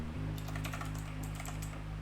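Typing a command on a computer keyboard: a quick run of light, close key clicks over a steady low electrical hum, faint and with no talk.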